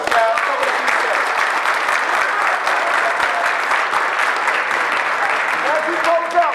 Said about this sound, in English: Clap it up for yourselves, guys.